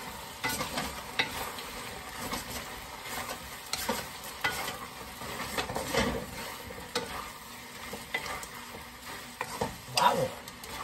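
Squid stir-fried with cilantro in a pan gives continuous sizzling with irregular scraping and stirring clatter throughout, close and moderately loud, with no talking.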